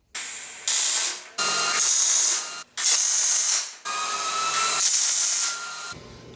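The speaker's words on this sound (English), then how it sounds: "I can put a couple of tacks of weld and then get going from that point." Tack welds on a sliding bracket come as five separate bursts of harsh, crackling hiss, each lasting about a second with short gaps between them, close and loud.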